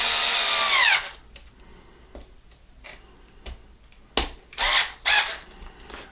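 A powered screwdriver whirs loudly for about a second as it drives a screw into a plastic part of a Corally RC car, then stops. Scattered clicks, taps and small handling knocks follow.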